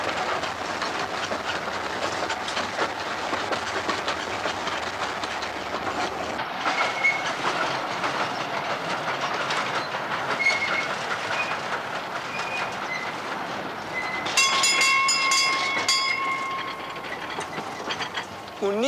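Train rolling along railway tracks, with continuous loud rumbling and clatter throughout and a brief high metallic squeal of wheels near the end.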